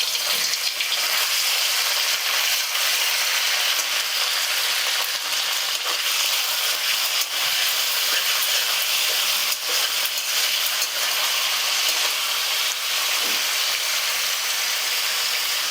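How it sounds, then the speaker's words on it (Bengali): Paneer pieces fry lightly in oil for a Bengali festival dish, a steady broadband sizzle that runs unbroken throughout with faint occasional stirring clicks and no talking. "এবার আমি পনিরের টুকরোগুলো হালকা করে ভেজে নিচ্ছি"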